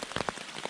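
Rain patters on a tent shelter at an off-trail solo campsite on Kings Mountain, a steady spattering of drops with a few louder taps close by.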